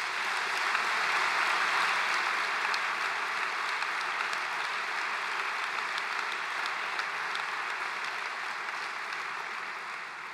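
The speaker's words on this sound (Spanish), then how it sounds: "doña María Nieves Olmedillas de Pereira, para quen lle pedimos un fortísimo aplauso ali onde quera que este." Sustained audience applause at a gala, steady dense clapping filling the whole stretch and slowly fading a little toward the end.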